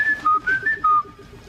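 A person whistles a short tune of five or six clear, sliding notes in a quick rhythm, close and loud, with no talking over it.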